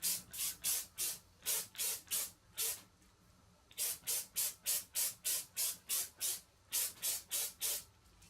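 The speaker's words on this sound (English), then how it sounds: "So this is a massive shine hairspray. I'm just going to spray this all on the top section." Close, loud hissing bursts of shine hairspray onto the top section of hair in quick rhythmic pulses, two runs of several sprays separated by a short pause.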